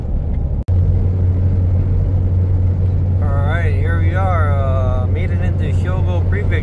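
Steady low engine and road drone inside a car on a long highway drive through Hyogo Prefecture, Japan, continuous and close throughout, with someone talking over it partway through.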